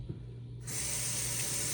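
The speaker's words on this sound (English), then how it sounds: "Now I'm gonna rinse it off." Sea moss rinsed under cool running tap water: a steady broadband hiss of flowing water bursts in after a brief quiet start and runs continuously, close and even.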